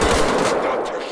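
Rapid gunfire in Wolfenstein: The Old Blood, a burst of loud, close shots that cracks out at the start and then decays into a reverberant tail.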